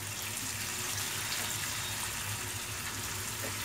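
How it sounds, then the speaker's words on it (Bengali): Water poured into dry spices frying in a pan while cooking poa fish, a steady broadband gushing hiss with a low bubbling sizzle underneath, continuous and close throughout. "আর সেগুলো যেন পুড়ে না যায় এজন্য সামান্য একটু পানি দিয়ে দিচ্ছি"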